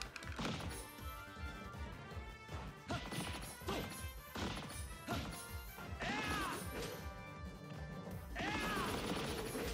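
Repeated smashing impacts come from Super Smash Bros on Wii U as names are struck to build a picture, a run of punchy crashes and thwacks over game music and sound effects.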